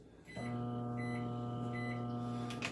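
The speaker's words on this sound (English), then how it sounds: "Right in the microwave for about" A microwave oven hums steadily after a short start-up, its even drone and faint whine running without a break through to the end, with no talking.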